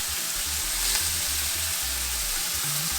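White cooking wine sizzles steadily in a pan of chicken scampi, a dense continuous hiss close up with low rhythmic bubbling underneath and no talking.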